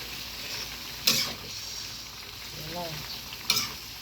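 Cabbage and leafy greens stir-frying in a pan give a quiet, steady sizzle, with two sharp scraping clatters of the utensil against the pan and a brief spoken word.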